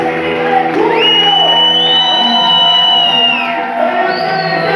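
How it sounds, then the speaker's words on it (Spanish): Church congregation at a worship service whistling and shouting with joy, long rising whistles over a dense, loud crowd din of cheering voices, continuous throughout. "a ese chiflido, a ese grito de júbilo"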